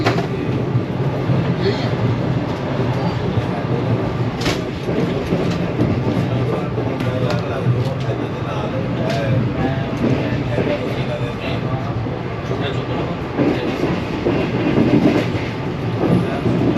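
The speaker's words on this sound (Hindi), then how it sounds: "हमारी ट्रेन जम्पी रेलवे स्टेशन को पास थ्रू कर रही है" The newly upgraded Shalimar Express on the Karachi to Nawabshah route runs through Jampi station at about 102, giving a steady, loud rolling rumble with rhythmic wheel clatter and occasional sharp knocks throughout.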